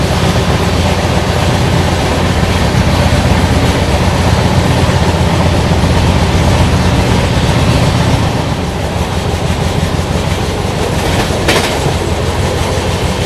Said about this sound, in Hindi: फिलहाल अपनी ट्रेन पंचकुला घाट्स में चल रही है